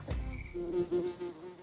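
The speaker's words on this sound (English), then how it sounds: "Well, we've got a wasp friend." A wasp buzzes close by near a weep hole in a brick wall, a steady insect drone with a clear tonal hum that swells and fades as it moves around, heard alone without talk.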